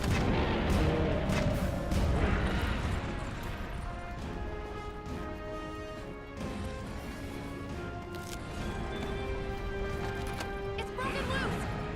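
Gunfire in a Monster Hunter World fight against Zorah Magdaros, with repeated sharp shots and heavy impact booms over a dense rumbling game soundtrack, nearby and loud throughout.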